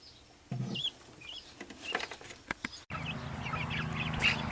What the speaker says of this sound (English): They're baby guineas.